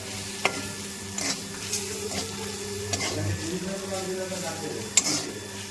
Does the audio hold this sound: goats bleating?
no